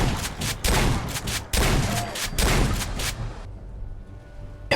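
Loud, close shotgun blasts in Fallout 4, several heavy booming shots spaced unevenly over about three seconds, then a sudden drop to quieter ambience with one last blast at the end.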